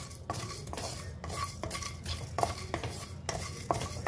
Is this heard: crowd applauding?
no